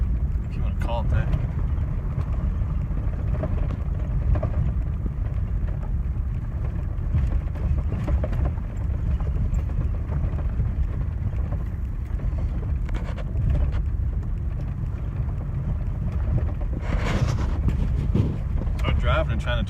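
A vehicle driving along a rough, barely-there dirt road on a grouse hunting trip, giving a steady loud low rumble with wind buffeting and occasional rattles and jolts throughout.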